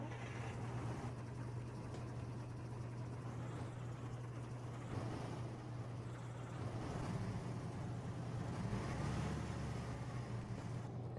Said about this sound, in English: I'm just going to quickly let you listen to the engine sound. So yeah, this is the V10.